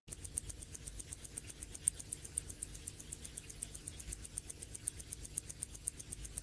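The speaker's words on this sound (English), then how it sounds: "we really hear the clicky clicky of the watch ticking" Rapid, even clicking pulses of a watch ticking, steady throughout, sharp and bright with a thin metallic edge, faint and processed-sounding with no voices.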